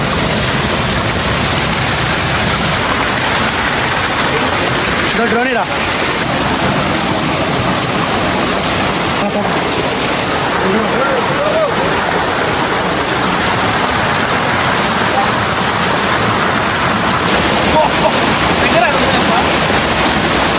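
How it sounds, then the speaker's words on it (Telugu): Loud, constant roar of a waterfall near Nandyal, India, filling the whole clip, a dense rushing wash of water with no break. "ఫైనల్ గా అతి కష్టం మీద వాటర్ ఫాల్ దగ్గరకైతే చేరుకున్నాం"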